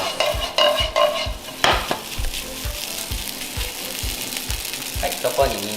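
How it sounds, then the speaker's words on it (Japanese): Fried rice with Chinese Jinhua ham is stirred in a pan: sizzling hiss under rhythmic scraping and clattering of the utensil, close and fairly loud. "焦げないように注意しながらゆっくりと炒めていきます"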